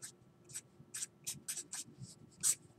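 Pen or marker writing on a board or paper during a lecture on hypothesis testing, a quiet series of short scratchy strokes in an irregular rhythm, with faint low room hum underneath.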